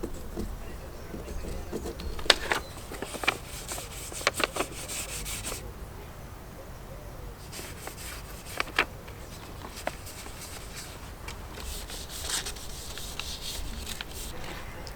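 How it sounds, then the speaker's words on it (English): Cloth rubbing paint onto paper for an anthotype print, a soft close scrubbing and brushing texture coming in bursts with brief pauses, fairly quiet against faint background noise. "I'm just going to use a bit of cloth to paint it on."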